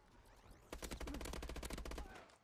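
Rapid automatic gunfire in Call of Duty: Advanced Warfare: a single sustained burst of fast, evenly spaced shots lasts about a second and a half, loud against a quieter game background.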